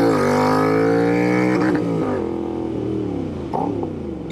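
Royal Enfield Interceptor motorcycle fitted with an S&S cam and aftermarket intake, engine held at a steady loud rev in town, then dropping and rising again with a brief blip near the end, close and continuous.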